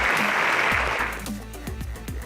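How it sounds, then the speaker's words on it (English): Audience applause at a live high school quiz draw, loud and dense at first, then fading within a second or so as a voice takes over. "A round of applause."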